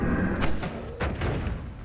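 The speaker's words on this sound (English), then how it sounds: "he was fucking throwing bombs at me" Glitter bombs explode in the video game Noita, two or three close, muffled booms spaced about half a second apart over a dense, noisy background, with no clear talking.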